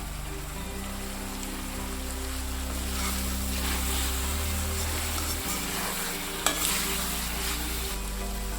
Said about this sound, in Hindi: अब थोड़ा सा फ्रेश क्रीम ऐड करेंगे और हाई फ्लेम पे इसे अच्छे से भूनेंगे।